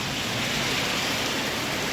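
Steady rain falling, a dense continuous hiss of drops on surfaces, close and even for the whole stretch with no other sounds.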